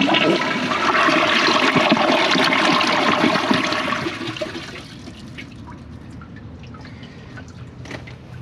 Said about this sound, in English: Here's the close-up flush.